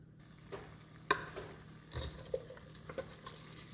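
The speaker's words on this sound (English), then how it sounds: "I'm also going to transfer this old rice and beans into here" Leftover rice and beans scraped and stirred into a cooking pot, soft clunks and scraping taps at a few scattered moments, close and fairly quiet, without any talking.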